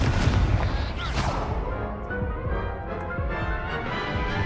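Confringo fire spell in the video game Hogwarts Legacy, a booming explosive burst with crackling fiery debris that fades into a rumbling tail, loud and close.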